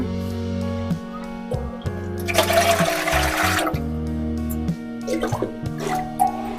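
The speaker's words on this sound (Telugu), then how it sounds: "ఇప్పుడు ఇడ్లీ పాత్రలోకి మనం అయితే వాటర్ యాడ్ చేసుకున్నాము" Water splashes and pours into an idli steamer pot for a couple of seconds, with a few drips afterward, over steady background music.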